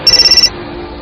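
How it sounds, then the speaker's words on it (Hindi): A phone rings with a rapid electronic trill, a string of quick regular pulses for about half a second, then cuts off into low room hum. "निकिता का फोन लगातार बजे ही जा रहा था।"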